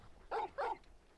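A dog in the Final Fantasy XVI video game gives two short, clear barks in quick succession, moderately close and alone over quiet background ambience.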